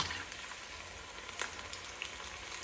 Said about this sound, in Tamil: இப்போ காலையில் அதை ஃப்ரை பண்ணி கொடுக்குறேன்